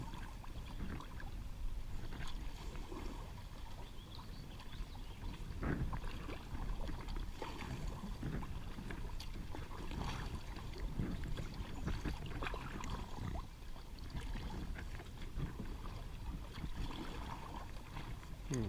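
Steady water sloshing and rippling as a packraft is paddled along the Allegheny River beside a refinery, with soft repeated paddle strokes and splashes close by and no talking.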